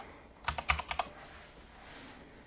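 A short burst of about six crisp keystrokes on a computer keyboard, close and clear, in quick uneven rhythm, followed by quiet room tone.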